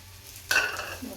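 Oil sizzling in a pan on a home stove while flatbread is being cooked, a sudden close hiss that starts partway in and keeps crackling steadily with a few faint clinks.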